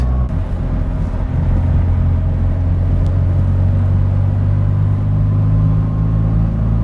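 A car engine downshifts as the driver tightens into a corner on a track, a steady loud low rumble filling the cabin with an even drone and no clear rev spikes.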